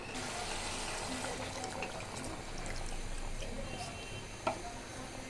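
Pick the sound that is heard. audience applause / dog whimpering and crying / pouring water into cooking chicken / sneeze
pouring water into cooking chicken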